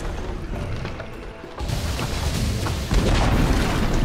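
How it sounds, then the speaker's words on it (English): Dota 2 match with a tower under attack, deep booming impacts and rumbling crashes that grow louder partway through, layered over dense battle noise. "Dire's top tower is under attack."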